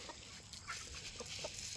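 Soft clucking of chickens in the background, a few short calls scattered over a steady outdoor hiss, fairly faint and with no talking.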